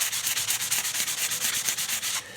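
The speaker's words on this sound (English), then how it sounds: "And all I'm using is just one of those spongy bloody sandpaper things." Sanding sponge rubbing back and forth over a chrome motorbike part, roughing up the surface, in steady rapid strokes about five per second, close and fairly loud, alone until it stops near the end.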